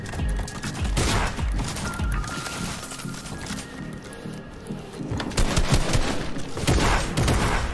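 Shotgun blasts in the Fortnite video game, a few sharp reports spread through a dense, busy game mix with constant background noise.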